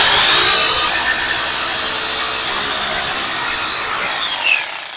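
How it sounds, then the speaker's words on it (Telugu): A power drill bores a hole for a DTH satellite dish mount, giving a loud, steady grinding whine close by that wavers slightly in pitch over several seconds. "డ్రిల్ మెషిన్తో కానీ లేదా సుత్తో కానీ మీరు హోల్ చేయొచ్చు"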